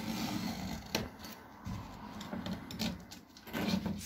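Scissors cutting through mosquito net tulle, a close, continuous rasping and rubbing texture with a few sharper snips along the way, no voices.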